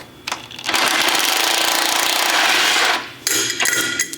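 A big sledgehammer works on a frame being stripped, giving a loud, harsh run of metallic pounding and grinding that surges for about three seconds. Short bursts follow after a brief pause.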